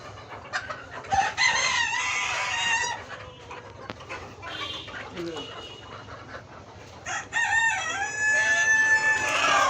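Chickens being vaccinated against fowl cholera cluck and squawk in short bursts, with a rooster crowing and a dog panting nearby, while people talk over the birds.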